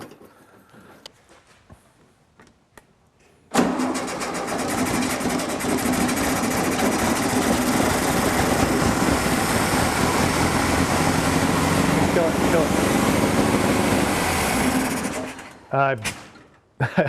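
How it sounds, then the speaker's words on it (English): A 1969 VW Beetle engine, unstarted for 14 years and primed with gasoline in the carburetor, cranks and catches into a loud, steady rattling idle that runs about eleven seconds before shutting off, with brief talk before and after. "we put some gasoline inside the carburetor so we could try and start it"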